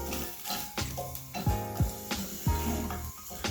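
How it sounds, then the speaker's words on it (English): Chicken pieces frying in a pan for Vietnamese chicken noodle soup, a close sizzle with scraping and stirring clatters against the pan. "So while I leave this sitting here, letting it sizzle"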